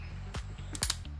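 A Yashica Electro 35 film camera fires its shutter, two sharp, close mechanical clicks about half a second apart against a quiet background.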